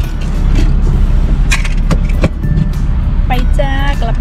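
A car driving on a road in Thailand on a sunny day, its steady interior engine and road rumble loud and constant throughout, with someone talking over it and a few small clicks and rattles.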